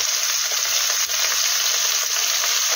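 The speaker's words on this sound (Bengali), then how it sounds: "আমি এখানে দিলাম পেঁয়াজ কুচি" Chopped onion sizzles steadily in hot oil alongside small cardamom pods already fried in the pan, the start of a red meat curry; a continuous, close, even crackle with no talking.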